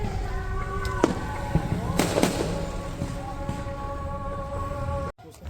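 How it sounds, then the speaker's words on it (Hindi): Firecrackers go off in a road, several sharp pops and crackles scattered over a steady background hum, with a few distant bursts mixed in and a voice faintly in the surroundings. "तो ऐसे में बीच रोड में पटाखे जलाना मुझे नहीं लगता कि सही है।"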